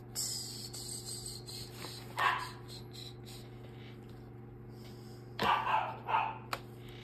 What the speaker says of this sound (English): Oh, I wonder what he's barking about.